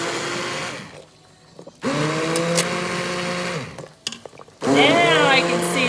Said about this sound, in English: you're gonna take an immersion blender, okay? You're gonna stick it down in there. You're gonna blend.